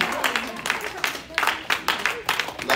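A church congregation at a discipleship training service claps hands in a loose, uneven rhythm, close and lively, with voices mixed in among the claps.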